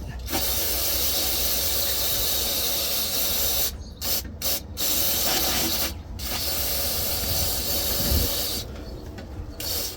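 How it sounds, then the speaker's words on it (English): An aerosol can sprays a loud, continuous hiss up close onto a 2002 GMC Sierra transmission part, broken by a few brief pauses and short bursts. "Spray the back of that."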